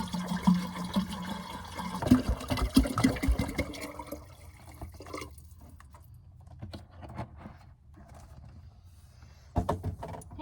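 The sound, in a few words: water filling a cooler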